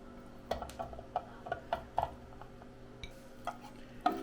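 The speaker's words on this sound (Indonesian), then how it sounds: "ini kepalanya kita cincang halus dulu ya" A knife finely chopping peeled prawn heads on a board: quiet, fairly regular close taps in bursts, with a brief pause before a final louder chop.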